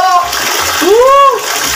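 Water splashes in a tub during a playful bath at home, a bright, sloshing burst while a voice lets out a rising, excited whoop over it.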